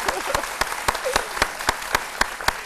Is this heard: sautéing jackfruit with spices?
no